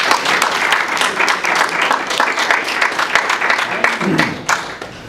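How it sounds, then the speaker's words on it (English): Warm audience applause at a talk honouring an education mentor, steady clapping that fills the room for several seconds, with a few voices and a brief low murmur near the end. "Please give a little warm applause."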